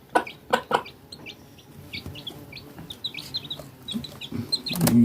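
A mother hen and her chicks on a farm cluck and peep in short scattered bursts, close and lively, with higher chirps sprinkled between the clucks and a louder flurry at the end.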